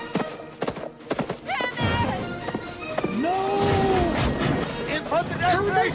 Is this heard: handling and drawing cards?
no